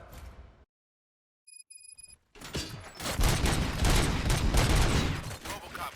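Gunfire in the RoboCop: Rogue City video game: after a short silence and a few electronic tones, a dense, loud burst of shots and impacts fills the rest of the moment with sustained rapid firing.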